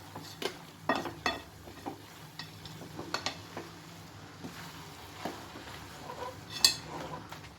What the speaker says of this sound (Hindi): इस स्टेज पे गैस को फुल आंच पे करके मुझे जल्दी जल्दी चलाना होगा